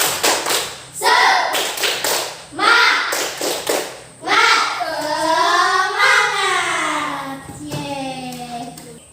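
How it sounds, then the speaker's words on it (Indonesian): A classroom of children does a rhythmic spirit clap, bursts of patterned clapping and tapping mixed with children chanting and shouting, loud and close, ending in lively voices. "Gerak-gerak, tepuk semangat."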